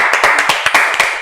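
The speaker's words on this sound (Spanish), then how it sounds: "Un aplauso, por favor" Lively clapping from an event audience at an outdoor venue with a view, sustained irregular hand claps filling the whole moment, close and fairly loud.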